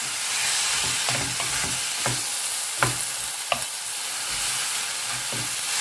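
Tomatoes sauté in a pan for a fish dish, giving a steady sizzle with scattered utensil scrapes and stirring knocks, close and without speech.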